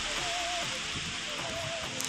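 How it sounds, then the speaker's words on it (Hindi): Heavy rain with strong wind in a park makes a constant, dense hiss of falling water and rushing air, with faint low knocks and a brief squeak mixed into the steady wash. "तो गाइस इधर बारिश ही बहुत तेज हो रही है"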